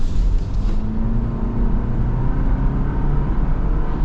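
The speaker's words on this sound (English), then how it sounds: "this engine actually has more character than the V6, because it's kind of like this loud, rambunctious 4-cylinder" A Toyota Land Cruiser's loud four-cylinder engine hums steadily from inside the cabin while driving, a constant low drone with road noise and no sharp changes in pitch.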